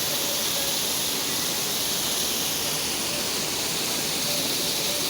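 A river in Portland, Jamaica, rushing down from upstream, heard as a loud, constant broadband wash of flowing water with no breaks and no voices.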